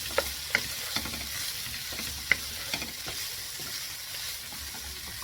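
Soft, microwave-cooked carrots sizzle steadily in a hot pan over high heat, close by. A spoon scrapes and clacks against the pan at irregular intervals as they are stirred.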